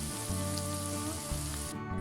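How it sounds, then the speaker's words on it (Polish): Chopped onion sizzles steadily in melted butter in a pot, the start of a beetroot soup made with smoked ribs. The hiss is close and even for the whole stretch, with no voices. "Teraz będę smażył, tak żeby się przerumieniła."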